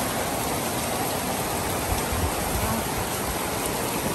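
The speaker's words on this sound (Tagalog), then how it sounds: "yan ang lakas ng ulan" Heavy rain pours down steadily in a loud, unbroken hiss of falling water, with no pauses and no voices.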